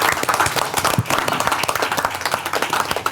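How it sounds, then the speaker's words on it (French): Audience applause at a sports association event, steady dense clapping from a crowd, loud and sustained throughout with no pauses. "on t'applaudit"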